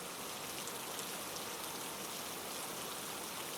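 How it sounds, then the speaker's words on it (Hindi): Heavy rain pours in a Hindi horror cartoon set on a dark rainy night, a dense, even hiss of downpour that stays constant and fairly soft throughout with no voices. "बारिश बहुत तेज थी"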